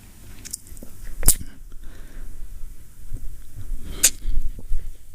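Someone slurps coffee in two short, sharp sips about three seconds apart, close to the microphone, with faint room noise and small mouth sounds in between.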